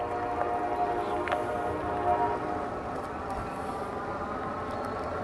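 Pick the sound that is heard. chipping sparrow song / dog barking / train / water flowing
train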